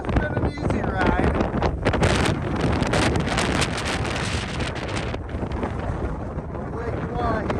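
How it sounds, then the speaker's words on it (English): A violent 56 mph wind at Lake Owyhee buffets the microphone during a KLX-300 motorcycle ride, giving a loud, constant roar with gusting thumps and rushing noise from start to finish. "That's a 56-mile-per-hour wind."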